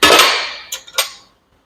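A hammer taps a cylinder part of a New Holland skid loader back into place during a reseal: one loud metallic strike followed by two lighter, ringing taps, close up.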